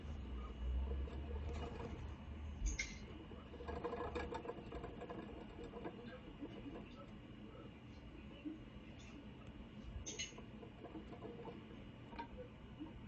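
A pet mouse runs on a spinning exercise wheel inside a new cage, a faint, rapid mechanical whir and rattle with small ticking clicks that continues steadily and quietly throughout.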